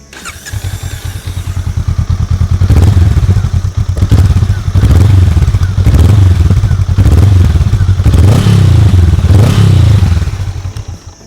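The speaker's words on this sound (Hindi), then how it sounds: "आप सुनाता हूँ मैं आपको इस बाइक का एग्जॉस्ट नोट" Honda Rebel 500 motorcycle exhaust note, a close, loud, pulsing thump rising in repeated throttle blips and revs, with a bit of mechanical clatter between them.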